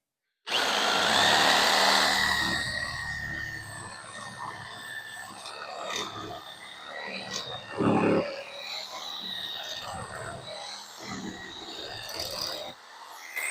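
A power saw cuts through an aluminum sideboard on a boat trailer, a loud, steady, high-pitched buzzing whine that runs for over twelve seconds with small shifts in pitch and load, close up.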